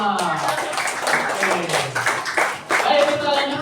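Scouts at an Islamic school scout camp clap together, a short burst of group clapping with a leader's voice and chatter over it.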